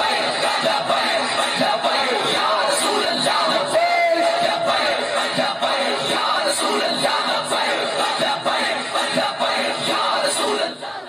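A large crowd at a Tehreek-e-Labbaik rally chants and yells the Labbaik slogan, a dense continuous roar of many voices with rhythmic shouted surges throughout.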